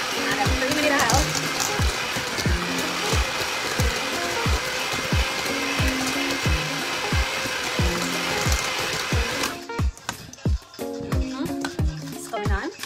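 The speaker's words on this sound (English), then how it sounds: "I've added my sugar and my butter, and I'm creaming it out" An electric hand mixer creams sugar and butter for a Jamaican fruitcake, whirring steadily with regular rhythmic knocks of the beaters against the bowl, then shifting to a quieter, more uneven churn near the end while a voice talks over it.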